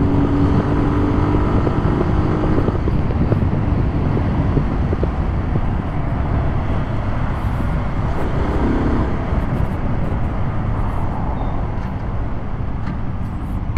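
A 2020 Kawasaki Z125 Pro SE motorcycle accelerates along a road in stop-and-go riding, its engine drone steady and close, mixed with heavy wind rush and passing traffic.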